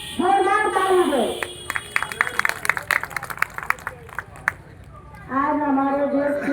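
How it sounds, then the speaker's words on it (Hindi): Loud audience applause and clapping at an outdoor blanket distribution event held on Atal Bihari Vajpayee's anniversary, a sustained burst of many hands between stretches of a voice speaking over a loudspeaker. "उनके लिए आप सब जोरदार ताली दें।"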